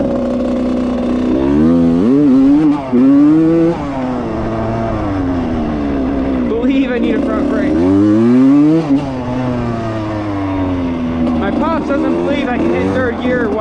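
1995 Suzuki RM125 two-stroke dirt bike engine revving hard, loud and close, in repeated rising and falling wide-open blasts with crackling pitch sweeps, while someone talks over it.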